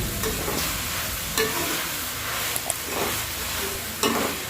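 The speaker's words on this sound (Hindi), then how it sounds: "ये कुछ धनिया पाउडर का वो भी हमने शामिल कर दिया। 1 चम्मच अच्छे तरीके से भून लेंगे।" Coriander powder roasted in a pan with potato and capsicum, a constant hissing sizzle broken by periodic scraping stirs of a spoon, close and steady with no talking.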